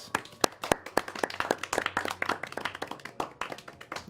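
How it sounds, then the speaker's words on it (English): Audience applause at a live tabletop roleplaying show, a dense run of sharp hand claps from many people, steady and fairly close, lasting throughout with no speech. "the audience erupts in applause"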